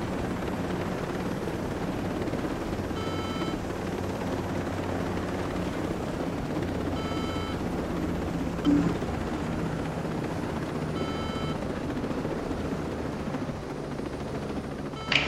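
Steady helicopter rotor drone from the video game Ghost Recon Breakpoint runs throughout at moderate level, with a faint periodic tonal beep and a small click near the middle.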